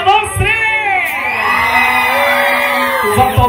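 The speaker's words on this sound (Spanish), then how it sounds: "me regala un grito a la cuenta de tres" A party crowd at a quinceañera celebration in Temamatla lets out a loud sustained shout and cheer on a count of three, whoops and yells filling the space with a voice over a sound system.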